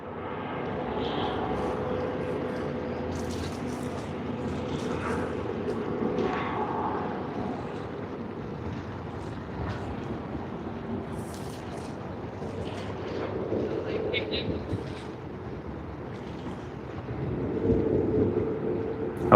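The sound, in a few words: Qantas Boeing 787-9 Dreamliner airliner arriving at Sydney Airport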